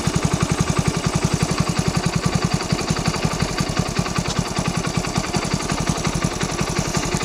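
A motorcycle engine idles after its idle screw has been adjusted, a steady rapid low thumping pulse held close and loud without a break, with no voices over it.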